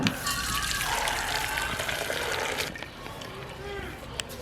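Water from a pot of boiled egg noodles pours off as they are drained, a steady splashing gush that runs for several seconds and thins out toward the end.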